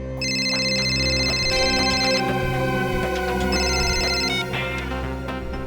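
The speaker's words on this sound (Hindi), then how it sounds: "किसका फोन था? काट तो दिया, उठाना चाहिए था ना।" A phone rings with a repeating electronic tone over steady background music, in two bursts separated by a short gap, then is cut off unanswered.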